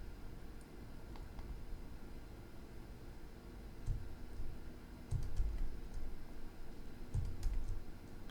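Keystrokes tapped on a computer keyboard during 3D modelling work, a few scattered soft clicks followed by short clustered bursts of key presses, close and quiet with no talking.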